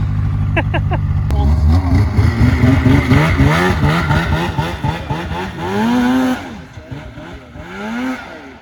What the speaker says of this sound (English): Here he comes on the Polaris ATSki 600.